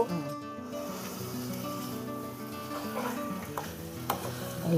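Tomatoes and spices fry in a pan over a wood-fired village stove, a steady low sizzle with occasional scraping and stirring clicks.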